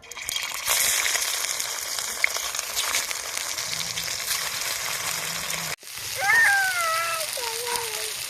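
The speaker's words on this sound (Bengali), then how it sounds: "এবার একে একে এই পিঠেগুলো ওখানে দিয়ে দেব" Semolina and vegetable pithas are lowered one by one into shallow oil in a wok, giving a crackling sizzle with small spatters and clinks. A brief squeaky sound rises near the end.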